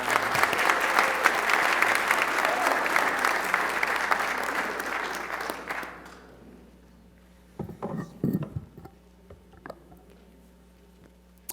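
An audience at a tribute event for a councilman applauds for the last speaker, a county executive. The clapping is dense and steady for about six seconds, then stops abruptly, and a few faint knocks and rustles follow.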